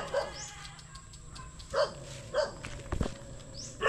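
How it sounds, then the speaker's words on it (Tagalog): Dog barking in short separate yips, about four or five barks spaced irregularly, moderately near, amid quiet background and faint movement. "May aso lang."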